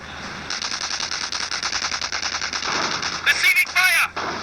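Rapid machine-gun bursts crackle in the World War II strategy game Company of Heroes, with a dense stream of shots followed by sharper louder reports near the end; a brief voice line sounds over the gunfire.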